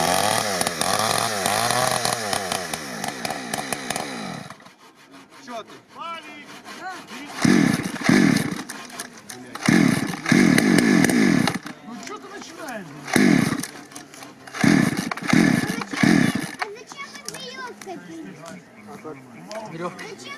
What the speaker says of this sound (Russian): Это не веревка, это пила специальная.